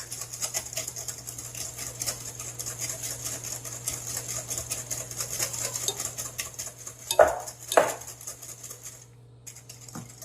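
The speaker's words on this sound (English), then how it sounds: "And then whisk this very quick." A whisk beats a pot de creme mixture with sugar and salt in a bowl, giving quick, continuous close scraping and clicking, with a couple of louder knocks against the bowl near the end.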